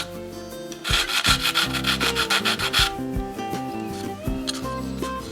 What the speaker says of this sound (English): just sand the end a little bit